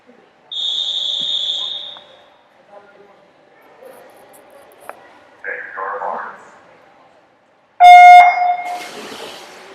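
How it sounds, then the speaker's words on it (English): At a 10-and-under swim meet, before heat 2 of the 100-yard backstroke, a single steady whistle blast sounds near the start. Quieter pool-deck noise follows, then a loud, harsh buzzer-like tone toward the end. "There's the whistle."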